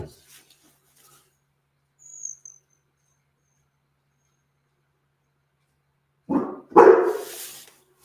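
A dog named Jake barks outdoors near hummingbirds, a faint brief yip early on, then two loud close barks near the end, with a thin insect chirp in the otherwise quiet background.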